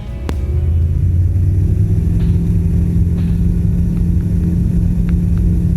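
The Bush Baby light aircraft rolls for a downwind takeoff from an airstrip. Its engine holds a loud, steady, close drone with a constant low rumble throughout, broken only by a few faint clicks.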